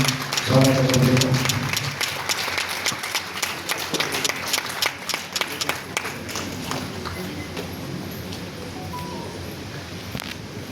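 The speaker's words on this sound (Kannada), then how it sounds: "ಎಲ್ಲರೂ ಚಪ್ಪಾಳೆ ಭಾಷೆಗಳು ಮಾತಾಡಿ ಸ್ವಾಗತ ಕೊಡಬೇಕು." Audience applause welcoming a speaker onto the stage at a cultural program in Mysuru, a dense burst of many hands clapping that gradually thins out and fades over several seconds.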